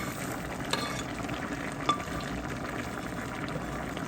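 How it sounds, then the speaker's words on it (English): Onion frying in a pan, a steady soft sizzle with faint stirring scrapes and a couple of small pops, close and continuous with no talking. "Now the onion goes in."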